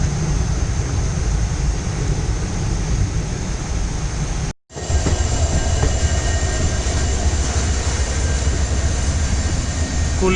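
A Vasco da Gama express train with banker locomotives attached runs on rails, giving a loud, continuous rumble and clatter that briefly drops out for a split second midway before the steady roar resumes.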